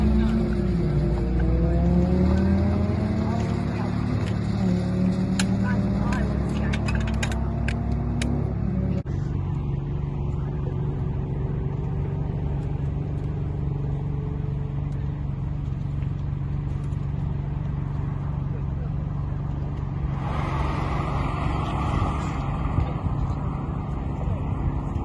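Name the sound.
car driving laps around a race track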